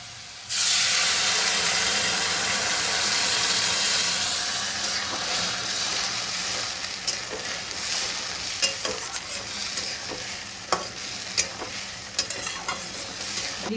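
Poppy seed paste hitting a pan of frying potatoes in a home kitchen, setting off a loud, steady sizzle and steamy hiss that settles slightly, with occasional clicks and stirring scrapes, no talk.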